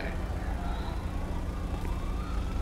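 An ambulance siren in LSPDFR wails faintly through a dense, rumbling wash of engine and highway traffic noise, with voices in the mix.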